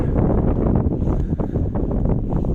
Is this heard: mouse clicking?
no